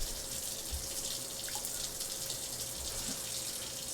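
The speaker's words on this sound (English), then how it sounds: "Run your ice cubes under some hot water." Ice cubes rinsed under hot water running from a kitchen tap make a steady, close hiss of flowing water throughout, with a faint clink or two and no talking.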